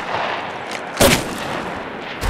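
An Auto Mastiff shotgun in Apex Legends Mobile fires in the game, one sharp loud blast standing out over a steady background of distant battle noise, with another shot starting at the very end.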